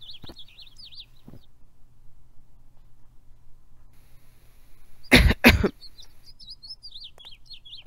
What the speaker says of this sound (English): I just wanted to cough to feel the silence